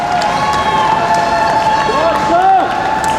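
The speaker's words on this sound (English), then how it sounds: "Fans cheering him on." A crowd cheers a skier during a Super G run at the 2010 National Veterans Wheelchair Games. Voices shout and whoop steadily and fairly loud across the whole moment, with a brief swell near the end.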